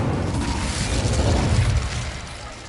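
An Incendio fire spell in Hogwarts Legacy blasts out as a loud, rumbling whoosh that swells over about two seconds and then slowly fades.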